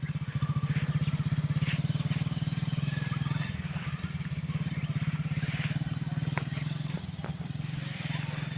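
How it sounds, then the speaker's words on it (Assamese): A motorcycle ridden around an open field at a temple, its engine holding a steady, close, loud drone throughout, with a brief dip in pitch partway and light clatter on top. "তাইক বাইক চলাব দিছোঁ।"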